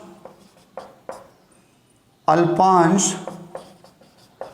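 Marker or chalk writing on a board during a physics lesson on the magnetic effect of current, with repeated short scratching strokes around a teacher's speech.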